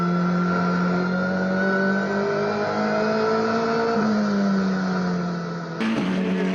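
Onboard a Toyota race car in a GTC Series race in PE, the engine drones steadily and loudly at high revs, with pitch rising and falling through gear changes and a sharp shift near the end.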